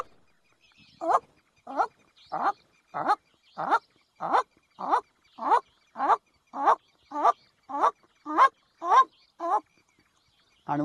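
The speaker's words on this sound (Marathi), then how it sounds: "इंडियन स्कॉप्स आऊल आहे, ते उचकी लागल्यासारखा आवाज करतं बरं का." An Indian scops owl calls at night, giving about fifteen short hiccup-like notes at a steady, evenly spaced rhythm, clear and fairly close against a quiet background.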